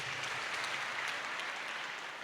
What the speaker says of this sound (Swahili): Tupigie Yesu makofi tafadhali.